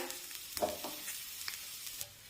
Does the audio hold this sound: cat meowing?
no